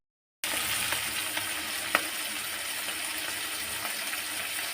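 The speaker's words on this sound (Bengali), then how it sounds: "আর বেশ একটু ছাঁকা তেলেই ভাজা মতো করছি" Mourala fish frying in plenty of hot oil, a steady hissing sizzle that starts abruptly after a moment of silence and carries on evenly, with one faint clink partway through.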